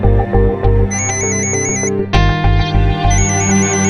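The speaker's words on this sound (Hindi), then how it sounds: "बजने दो फोन।" A phone rings with a repeating electronic ringtone melody in short bursts, loud and close, with a brief clunk partway through.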